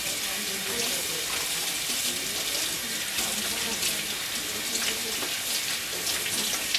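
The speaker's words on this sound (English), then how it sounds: "Washing is in a big stream of water" Lettuce leaves washed one by one under a strong stream of tap water, a steady unbroken rush of running water at close range.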